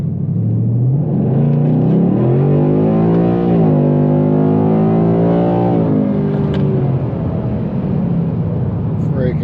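A completely stock, untuned car engine accelerating hard, close and loud, its pitch climbing steadily, dropping briefly at a gear change and then climbing again before easing off.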